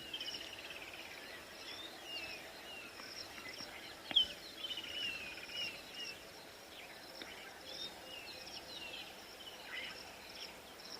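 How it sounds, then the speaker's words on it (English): Birds calling at dawn in the African bush on a sunrise safari, scattered faint chirps and whistles over a soft insect hum, with one louder call partway through and no voices. "You can hear quite a few birds calling and not many other sounds."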